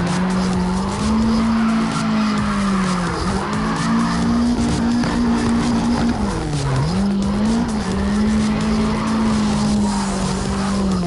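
Continuous tire squeal from a car drifting in CarX Drift Racing, a loud sustained screech that wavers and dips in pitch as the slide shifts, with engine roar underneath throughout.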